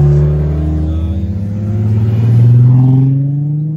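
A Nissan GT-R R32 revs hard while drifting, its loud engine note droning and rising close by, swelling to a peak and then easing off, with no voices over it.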